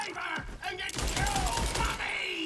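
Rapid gunfire with ricochets from a gun in the video game Borderlands, shown by a dense, continuous burst of shots that runs unbroken through most of the stretch under game effects.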